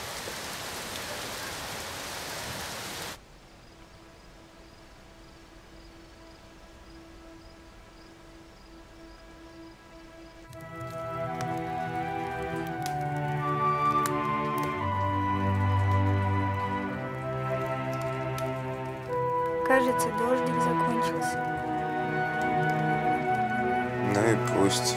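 Rain falling steadily outside, a soft constant patter, with music swelling in partway through and continuing to the end.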